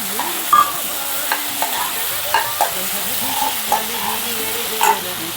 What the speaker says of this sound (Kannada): ಇದಕ್ಕೆ ಕಟ್ ಮಾಡಿ ಹುರ್ಕೊಂಡಿರೋ ಅಂಥ ಬೆಂಡೆಕಾಯಿ ಸೇರಿಸ್ತಾ ಇದ್ದೀನಿ